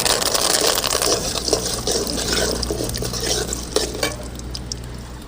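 Mustard seeds, peanuts and lentils fry in hot oil for a tamarind rice tempering, a continuous crackling sizzle with scattered pops and light stirring scrapes, close and steady.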